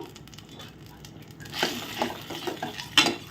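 Eggplant pieces are stirred in a pot with salt water and turmeric powder, a wet scraping and swishing that grows louder in the second half, with a sharp clink of the spoon near the end.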